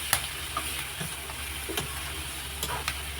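Turmeric and spices sautéing in a pan, with a low steady sizzle and a few sharp scrapes and clinks of a spatula stirring through the mix.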